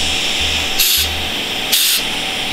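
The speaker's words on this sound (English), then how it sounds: "I just wanna blow some compressed air through the gas outlet just to remove any rubbish that might be in there" Compressed air blown through the gas outlet of a three-way caravan fridge, two short loud bursts of hissing air over a low motor hum, no talk.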